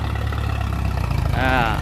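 A walk-behind two-wheel farm tractor works a rice paddy being cleared for new farmland, its engine chugging steadily and loud throughout with a brief rise in pitch near the end.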